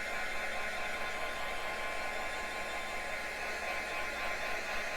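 A hair dryer blows steadily to dry ink on a mixed media mandala painting, a constant airy whoosh held at even loudness with no talking.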